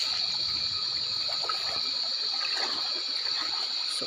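Water flows steadily along a stream, a continuous close trickling and gushing with a constant hiss and no voices.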